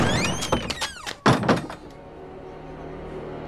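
Banging on a door in a dramatic movie scene, with several heavy thuds and rattles in quick succession and ringing tones over them, then a lingering hum after the knocking stops.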